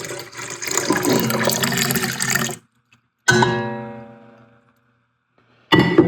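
Yeast stirred into warm water is poured into a milk mixture for spudnut dough, a splashy pour that runs for a couple of seconds. It stops, then rings into the bowl again in shorter, brighter bursts.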